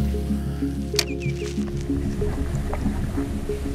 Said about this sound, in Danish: Jeg går helt stille og roligt i vandet her